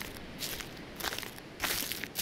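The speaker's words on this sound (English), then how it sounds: "Footsteps on the gravel." Footsteps crunching on a gravel path in the Slender horror game, a steady series of soft, close crunches with rustling texture over a hushed outdoor ambience.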